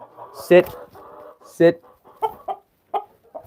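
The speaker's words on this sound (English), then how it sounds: "Hear that clucking? That's a sound of an unhappy rooster." Several short, throaty clucks from an unhappy rooster come in uneven bursts, close by, with a brief spoken word among them.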